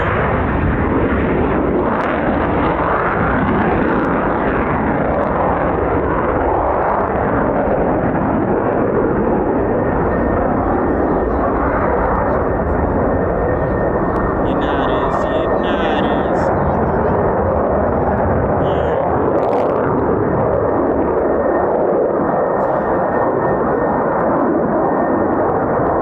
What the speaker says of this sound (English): Ready for the pilot to put it out of idle and into the thrust to simulate a startup.